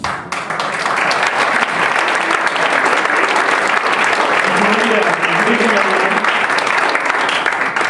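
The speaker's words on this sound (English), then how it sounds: "Can we give one more round of applause to Olivia and the team?" Sustained applause from an audience at an evening gathering with an actor and a law professor, honoring Olivia and the team; dense, steady clapping holds at full strength throughout, with faint voices mixed in.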